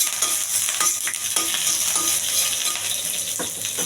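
Curry leaves fry in a little hot oil with a steady, close sizzle, while a few soft clinks and stirring scrapes break through at irregular intervals.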